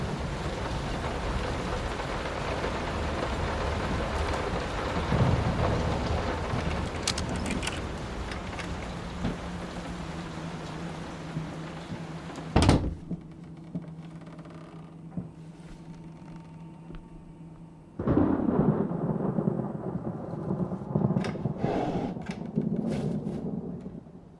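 Steady rain hisses in the video game Layers of Fear, broken by a sharp thunder crack, then quieter drizzle before the downpour swells again with scattered drips and knocks, no talk.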